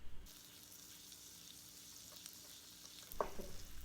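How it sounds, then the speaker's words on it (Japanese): Butter and minced garlic start sizzling in a frying pan, a faint, steady low hiss with a brief clatter near the end. "フライパンにバター 20g とニンニクのみじん切りを入れて火にかけます。"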